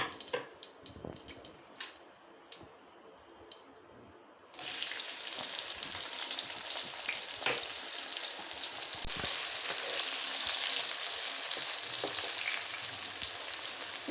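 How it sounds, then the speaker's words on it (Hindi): Onions hit hot oil after okra has been fried out of it and break into a loud, steady sizzle that runs unbroken to the end, after a quieter start with light clinks. "अब हम प्याज फ्राई करेंगे इसी ऑयल में।"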